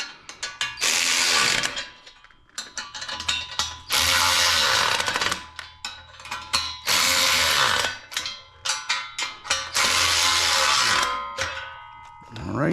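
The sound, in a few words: ratchet wrench tightening an 11/16 bolt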